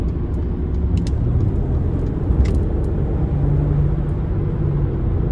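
Inside a 2020 Mercedes-Benz SL450 with a 3.0 twin-turbo engine cruising on the highway at around 70, a steady low engine drone blends with constant road noise from the wheels.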